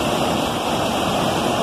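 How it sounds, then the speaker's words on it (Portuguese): Waterfall at Cachoeira dos Banco in São Luiz do Paraitinga, São Paulo, rushing as a loud, steady roar of white water that fills the whole moment, heard up close with no voices. "nós viemos na ponta da cachoeira aqui"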